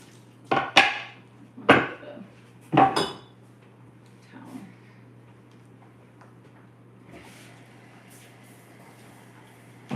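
Ham is rinsed and flipped in a pot, giving three loud close metallic clanks about a second apart, then a softer knock and faint running water with light splashing.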